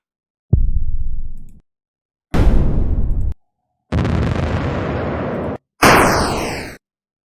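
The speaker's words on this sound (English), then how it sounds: "I'll do an explosion sound for when the player dies." Four separate explosion sound effects for a Clickteam Fusion game play one after another with short silences between, each a loud booming burst lasting about a second, the last brighter and crackling.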